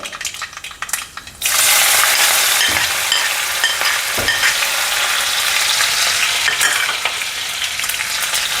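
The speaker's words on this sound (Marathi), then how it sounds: "आता हा जिरा आणि मिरचीचा ठेचा टाकत आहे" Cumin and crushed green chilli paste hit hot oil for a Marathi ridge gourd dish, bursting into a loud, close, continuous sizzle after a quieter start, with a couple of faint clinks.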